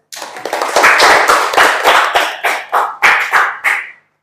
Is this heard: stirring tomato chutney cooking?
no